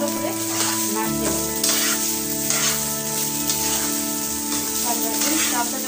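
Pulao rice frying and being stirred in a pan for Bangladeshi white pulao, a steady loud sizzle running throughout with scraping stir strokes on top and faint background hum.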